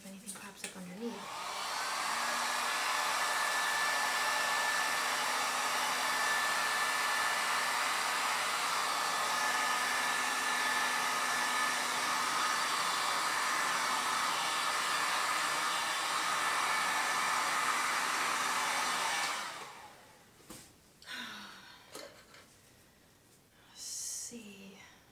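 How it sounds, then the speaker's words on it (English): Heat gun blowing over an acrylic flip cup pour painting, a steady loud roaring hiss held close for nearly twenty seconds, then switched off, leaving a few faint handling sounds. "I'm gonna use my heat gun, see if anything pops up underneath."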